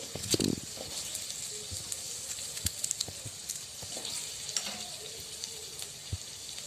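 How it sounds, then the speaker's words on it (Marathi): Onions sauté in oil in a pan, a soft steady sizzle broken by clinks and scrapes of stirring, close and fairly quiet with no talking. "कांदा मी कापून टाकते थोडा तेलात परतून घेऊया"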